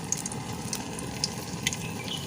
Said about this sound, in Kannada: ನಾನಿವಾಗ 3 ಜಜ್ಜಿದ ಬೆಳ್ಳುಳ್ಳಿಯನ್ನು ಇದಕ್ಕೆ ಹಾಕಿ ಹಾಕ್ತಿದ್ದೇನೆ.